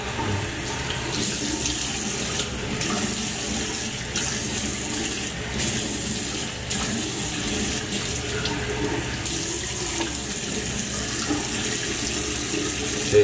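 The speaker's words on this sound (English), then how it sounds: "what I'm gonna do is run some water, make sure that it's at a lukewarm temperature" A tap runs lukewarm water into a bathroom sink, giving a steady, even splashing rush that continues unbroken from start to finish at close range.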